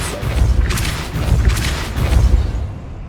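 A Depulso force spell cast in Hogwarts Legacy on PS5 erupts as a series of loud, heavy booming blasts with crackling bursts, three surges in quick succession close by before the sound falls away.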